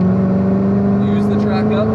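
A Corvette C7 ZR1 on a race track, its engine a loud, steady droning roar under full throttle with a strong sustained tone, while a person speaks over it.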